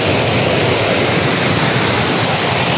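Waterfall called Bagong Sikat Falls in Bulalakaw, Oriental Mindoro, pouring in a forest setting: a dense, steady full-band roar of falling water, loud and close, unbroken across the whole stretch with no voices.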